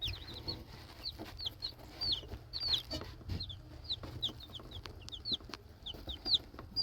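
Turken chicks in a brooder peep and cheep steadily, with many high, quick chirps overlapping close by over a low background hum, and no talking.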